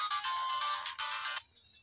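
A mobile phone ringtone plays loudly and close in two bright electronic bursts, then cuts off and leaves a quiet background.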